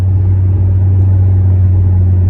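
Steady low engine rumble from a high-mileage Mopar car with over 219,000 miles, heard from inside while driving; a constant, loud drone with no talking over it.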